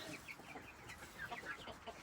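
Several backyard chickens cluck and chatter close by in quick, overlapping calls, a busy flock murmuring without any human voice.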